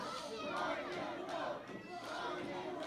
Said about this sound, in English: The crowd coming alive with that rock and roll chant